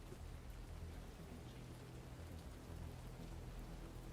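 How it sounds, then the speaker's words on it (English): Rain falls steadily in a video game, a soft, even hiss of drops under a low rumble, distant and fairly quiet throughout. "And it's raining, of course."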